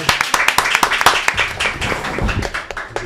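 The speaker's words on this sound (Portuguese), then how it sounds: "Eu queria uma salva de palmas pro Dr. Hussein" Applause for a doctor on a health podcast set, a small group clapping in quick, distinct, close claps that blur into a looser patter, with some speech underneath.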